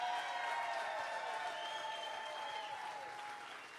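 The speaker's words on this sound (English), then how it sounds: "Can we get one more round of applause for the best governor we've ever had in Texas?" An audience at a Republican campaign rally in San Antonio, Texas, applauds the governor with sustained, fairly distant clapping and faint cheering that holds steady and slowly fades toward the end.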